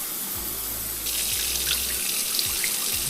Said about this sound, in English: Obviously, we have to wash the rice.